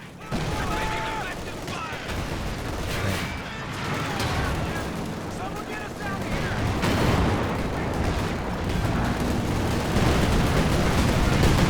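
Heavy bombing in the Company of Heroes 2 strategy game, a dense, loud barrage of explosions and gunfire rumbling continuously throughout.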